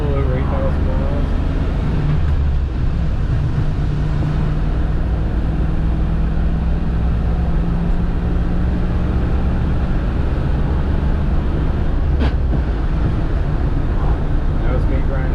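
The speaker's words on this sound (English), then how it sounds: "That was me grinding a gear into fourth." A 1992 Land Rover Defender 110 five-door station wagon with a V8 runs steadily at close range, its low engine drone continuous throughout, with a faint grating of a gear being forced into fourth.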